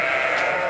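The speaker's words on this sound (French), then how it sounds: "Ça va les petites chèvres?" A goat on a French national sheep farm gives one short, loud, close bleat that fills the brief moment with a steady, nasal cry and no talking.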